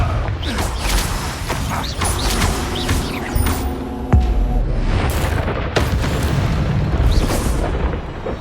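Confringo blasting curse in Hogwarts Legacy combat: loud, repeated booming explosions and crackling impacts over a constant rumbling mechanical din, with sharp bursts scattered throughout.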